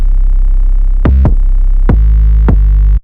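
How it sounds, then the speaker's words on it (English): A Southpaw 808 bass drum pattern plays loud and close, a sustained buzzy low boom retriggered by punchy hits at irregular intervals, with no voices. "It sounds like this. Buzzy and punchy."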